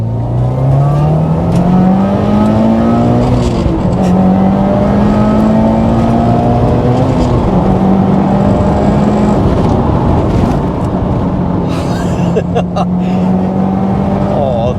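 A Subaru Impreza STi 20th Anniversary JDM car in Sport Sharp mode, its engine note rising steadily through the gears and staying loud and continuous from start to finish, recorded from inside the car.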